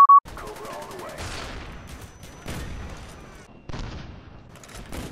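Several gunshots from an L96 sniper rifle in Black Ops 1 on PC, a series of sharp cracks and booms spread over a few seconds amid game noise, with a brief tone at the start.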